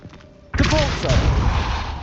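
A Depulso force-push spell cast in the Hogwarts Legacy video game, a sudden whooshing burst that swells and lingers with a rumbling tail after a short quiet lead-in.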